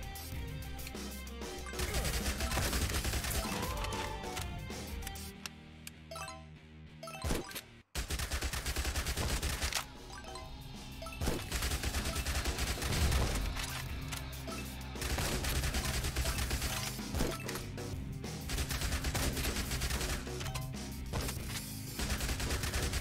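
Shotgun fire in the zombie survival game Yet Another Zombie Survivors crashes relentlessly as dense, overlapping blasts, forming a loud, nearly continuous barrage with only one brief break.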